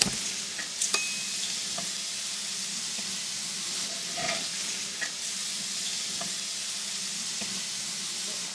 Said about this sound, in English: If it looks like it's brown, like this one is, I'm going to flip it over. See how it's getting crispy?